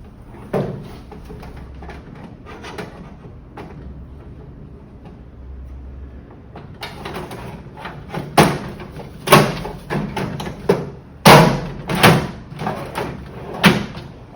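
Metal drawers sliding and clunking back into a tool chest converted into a weld cart, a quiet stretch followed by a run of loud, close thuds and rattling slams.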